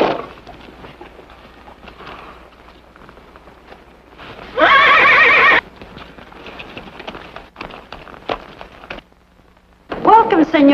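A horse whinnies loudly mid-clip, with clip-clopping hooves and faint background voices before another neigh at the end.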